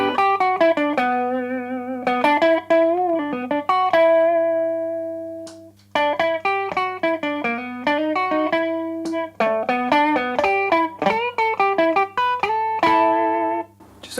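Electric guitar played through three subtly set overdrive pedals on a pedalboard, giving a warm, slightly thickened tone: clean melodic phrases of single notes and short runs, with sustained notes ringing out and no talking.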